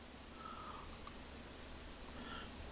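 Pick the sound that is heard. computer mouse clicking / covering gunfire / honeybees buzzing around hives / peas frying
computer mouse clicking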